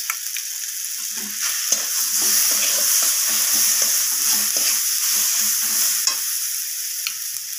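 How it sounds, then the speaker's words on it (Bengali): Garlic and ginger paste with spices frying in a pan with a splash of water, a continuous soft sizzle under repeated scraping stirs of a spoon, close and fairly loud, no talking. "তো আদা রসুনটা দিয়ে আমি মশলার সাথে এইভাবে কষিয়ে নিচ্ছি"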